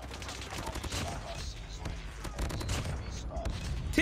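Kilo 141 assault rifle hip-fired in COD Mobile: a quick volley of rapid shots blended into busy in-game noise, with a player's voice over the top.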